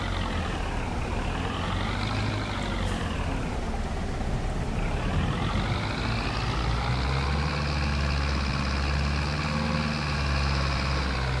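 A tractor engine in a farming video game on PS5 drones steadily at idle, its low rumble rising and falling slightly in pitch, moderately loud and alone without talk.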